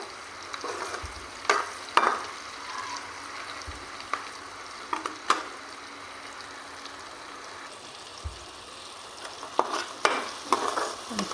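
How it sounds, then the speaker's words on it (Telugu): Sliced tomatoes, curry leaves and other ingredients for a mutton boti curry frying in oil, a soft continuous sizzle broken by occasional stirring scrapes and clinks, close by with no talking. "వీటన్నిటిని ఆయిల్లో చక్కగా మగ్గనివ్వాలి"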